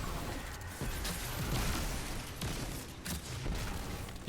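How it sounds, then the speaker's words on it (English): Skip grenades detonate in the Destiny 2 Sepulcher lost sector on legend difficulty, producing dense, continuous game combat noise with rapid bursts, pops and booming blasts layered over one another at steady high loudness. "I'm just going to throw both my skip grenades."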